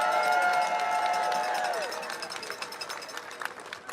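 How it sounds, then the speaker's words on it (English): Crowd at an activist rally for release of the Mueller report bursts into applause and cheering, loud and dense at first, then thinning into scattered claps and whoops. "Don't they deserve a round of applause?"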